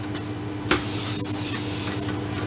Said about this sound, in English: I'm just going to spray the corner here,